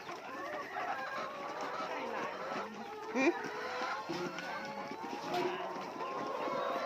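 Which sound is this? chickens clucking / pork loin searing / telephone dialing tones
chickens clucking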